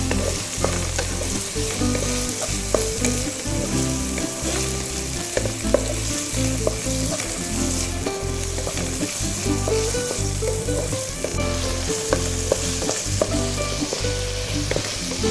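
Two onions frying in oil in a pan, a steady loud sizzle with stirring scrapes throughout, no voices.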